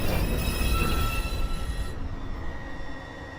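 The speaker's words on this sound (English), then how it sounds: "Express 2 train. Approaching the station, please stand away from the platform edge." An NYC subway express 2 train at Beverly Road station, a broad steady rumble of wheels and motors with high metallic tones that thin out midway, continuing as a lower roar.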